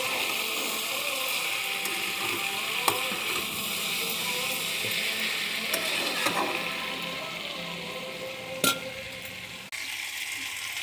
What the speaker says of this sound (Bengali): এখন মাছ চচ্চড়িটা ভালো করে নেড়ে নেব